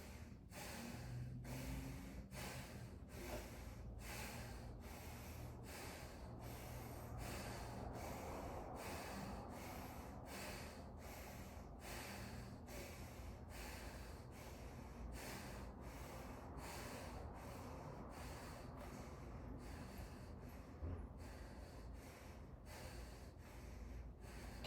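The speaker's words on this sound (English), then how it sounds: "Let's go through the nose. Breathe in." Rhythmic breathing drills, with short sharp inhales through the nose repeated at a brisk, even pace for a long stretch, each sniff close and fairly soft over a faint steady background.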